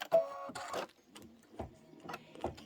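An embroidery machine stitches a Kimberbell pie design, producing soft, uneven mechanical whirring and clicking bursts, fairly quiet and close.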